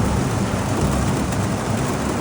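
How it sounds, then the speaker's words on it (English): Hard rain drums on the roof of a box van under conversion, a dense, even hiss and patter heard from inside, steady and constant throughout with no voices. "this is a pretty good first test based on how hard it is raining right now"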